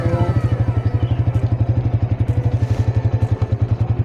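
A motorcycle engine putters steadily at low revs nearby, a loud rhythmic thumping that continues throughout.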